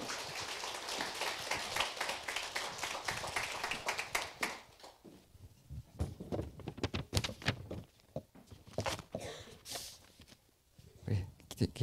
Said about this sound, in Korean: 우리 김재규 교수님 나오실 때 우리 박수로 환영하고요.